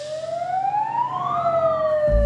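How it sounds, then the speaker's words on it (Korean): A loud, close siren wails, its pitch sweeping up and back down, ending in a sudden low thump, during a survival reality show. "사이렌! 사이렌!"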